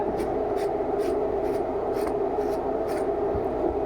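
A pet being brushed and combed after its bath, rhythmic scratchy strokes repeating about twice per second over a constant low background hum, close and fairly loud.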